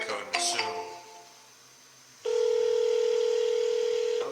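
A phone line gives a short run of dialing tones, followed by a long, loud, steady dial or ringing tone held for about two seconds, in a quiet setting with faint room noise in the pauses.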